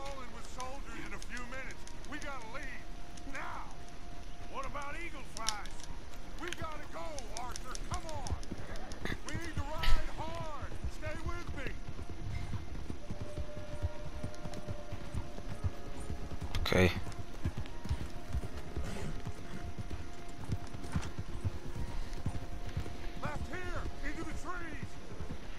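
Horse hooves clip-clop steadily in Red Dead Redemption 2, the rhythmic clopping continuing through most of the stretch alongside game ambience, a brief whinny and occasional thumps, while someone talks over the gameplay.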